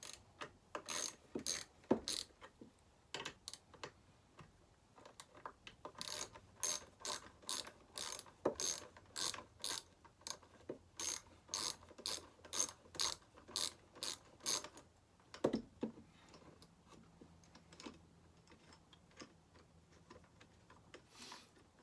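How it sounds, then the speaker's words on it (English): A ratchet loosens the carburetor fasteners on a McCulloch 850 chainsaw, a long run of rapid rhythmic clicks in repeated bursts, close and crisp, with brief pauses between strokes. "let's proceed with pulling the carb off, which I believe I got right here"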